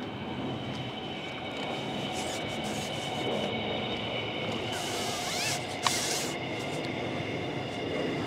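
A train rumbles past a fishing spot in a steady, continuous roar with a faint squeal of wheels, fairly close and alone without talk.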